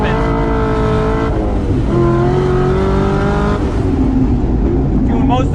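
An LS3 V8 in an ND Mazda Miata roars loudly on a race track, the engine note climbing and falling through throttle changes while exiting a corner. A faint tire squeal may come through under the steady engine drone.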